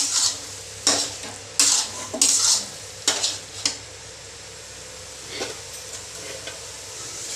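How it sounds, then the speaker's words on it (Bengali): Whole fish are stirred and fried in a wok with coconut oil and ginger-coconut paste, giving sharp metallic scrapes and clatters in bursts over a soft, steady sizzle that fades to quieter stirring near the end. "এই যে কড়ার মধ্যে যে মাছগুলো সবগুলো দিয়ে দিতে হবে"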